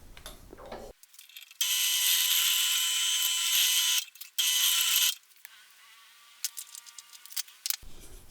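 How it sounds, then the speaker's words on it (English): A power drill bores a hole through a wooden router jig for routing a guitar binding channel, with two sustained bursts of high whining and grinding, then lighter clicks and handling noises close by. "So let's get this back to pieces and we'll get drilling."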